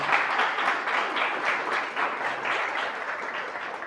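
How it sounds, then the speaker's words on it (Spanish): A church congregation applauds during a sermon on prayer, a dense, steady round of clapping at moderate loudness that continues evenly throughout. "Dele un aplauso al Señor."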